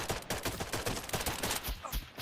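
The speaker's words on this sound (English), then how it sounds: "The gunshots in the distance, the choppers," Distant gunfire in the Project Zomboid video game, a dense rapid crackle of shots like a fusillade, steady and fairly faint throughout.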